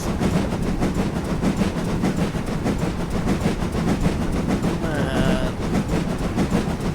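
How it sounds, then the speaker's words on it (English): A model Dean Goods steam locomotive runs along the track with a continuous close rumble and rhythmic clickety-clack of wheels, steady throughout, with a brief faint squeal near the end. "Charlie, this train must have been really heavy for this. But it's doing it. It's doing it really well, and it sounds good whilst it's doing it"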